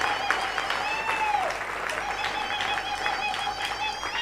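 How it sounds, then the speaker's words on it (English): A church congregation at a Sunday service claps together, a steady dense wash of applause from many hands with voices calling out over it throughout. "You can clap for Jesus if you are clapping for Jesus."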